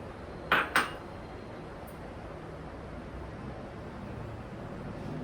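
A spoon knocks twice against a bowl as sesame seeds are added for gram-flour murukku, two sharp metallic clinks close together near the start, then a faint steady room hiss.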